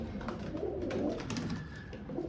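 Pigeons cooing inside a room: soft, low, throaty coos roll on continuously at close range, with no talk.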